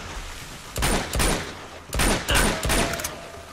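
Gunfire from Chloe in Uncharted 2: Among Thieves Remastered, loud close bursts of rapid shots in two clusters with a short lull between, no talking.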